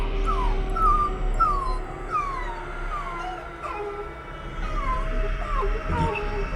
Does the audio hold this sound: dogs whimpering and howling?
yes